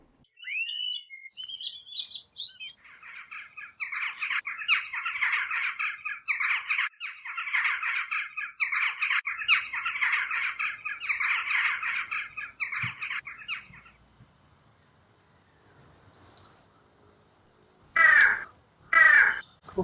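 A crow cawing in the outdoor opening scene of a short film: harsh, loud squawks in a long rapid run of repeated caws with brief breaks, then quiet, then two more close, loud squawks near the end, with a few chirps early on.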